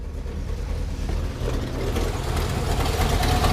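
A 289 V8 engine in a 1964½ Ford Mustang coupe idles steadily with a deep, low rumble and a slight exhaust leak, close by and alone, no voices.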